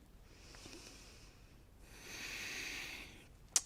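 Slow, controlled breathing through the nose while holding a plank pose in a yoga workout: a soft exhale, a pause, then a longer, louder breath, close and faint, ending in a small sharp click.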